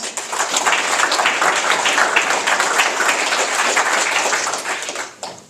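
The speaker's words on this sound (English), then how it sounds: "So a round of applause for Mr. Don Watkins" An audience claps for a speaker about to take the stage, a steady patter of applause that holds for several seconds and then tapers off quickly.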